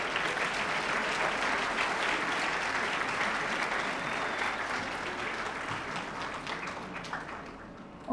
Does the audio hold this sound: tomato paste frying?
no